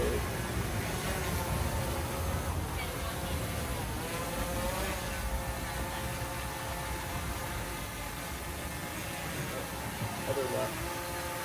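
A DJI Air 3S drone takes off and flies, giving a steady, loud high-pitched whine with a broadband rush that holds throughout.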